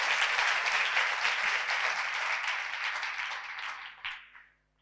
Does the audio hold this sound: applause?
yes